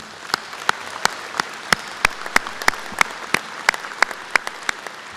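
At a Missouri S&T commencement, distinct sharp hand claps ring out in a fairly steady rhythm over a low bed of crowd applause, each clap crisp and near, repeating about every third of a second.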